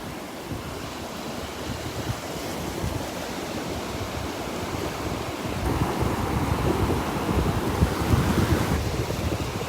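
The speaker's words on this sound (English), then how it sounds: "These aren't much of surfing waves here" Ocean surf breaks steadily on the beach at Delnor-Wiggins on a Tuesday morning, a continuous broadband wash of small waves with some wind noise, the roar swelling a little louder toward the end.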